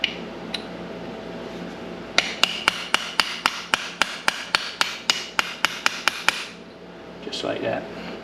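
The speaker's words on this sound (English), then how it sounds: "The hammering enthusiasm here is hard to watch" A hammer strikes metal on a Cincinnati Toolmaster knee mill in a quick, even run of about sixteen sharp, ringing blows, loud and close, with a couple of isolated taps before.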